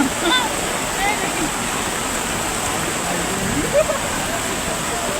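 Floodwater overflows and pours across farmland, making a loud, steady, close rush of water that runs without a break.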